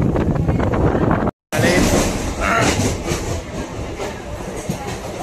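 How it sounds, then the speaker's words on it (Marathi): A commuter train from Borivali to Virar rolls along on rails, a steady loud rumble with rattling carriage noise and a brief cut near the start, with faint voices in the background. "मग आता आपण बसूनच राहणार आहे ट्रेनमध्ये."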